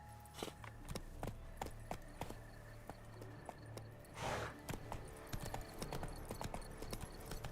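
Horse hooves clip-clop steadily in Witcher 3 while riding, a regular trotting rhythm of sharp knocks over game ambience and faint background music, with a brief swell of noise midway.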